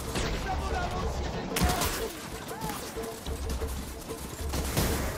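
Rapid bursts of special arrow shots in Horizon crackle and thud in quick volleys, with sharp impacts cutting through a busy, noisy game soundtrack.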